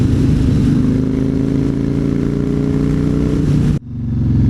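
A Yamaha Raider with a 113 cubic inch engine rumbles loud and close at steady high revs with a deep throbbing exhaust, then cuts off abruptly into a lower idle-like rumble near the end.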